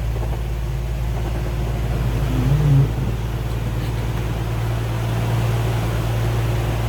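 A 1985 Jeep CJ8 Scrambler engine starts with a brief rev burst, then settles into a steady, even idle, loud and close with no voices.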